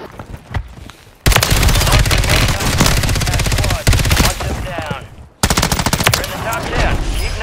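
Loud, rapid bursts of automatic gunfire from a Call of Duty-style shooter game fill most of the stretch, broken by brief gaps. Sharp single sniper cracks stand out among the automatic fire.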